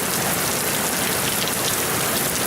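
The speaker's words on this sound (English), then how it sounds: "It's raining. It's loud because I have a metal roof." Heavy afternoon rain pours onto a metal roof in early October, a dense, loud, unbroken drumming hiss with no pauses and no voices.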